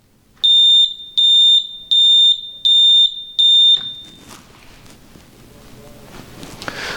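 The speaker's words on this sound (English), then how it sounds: "When I push that button, all of the lights will turn on and the audible alarm will sound to test that that alarm system is working" A Helios level alarm system on test sounds its audible alarm as five loud, evenly spaced electronic beeps of equal length, then falls silent, leaving quiet room background.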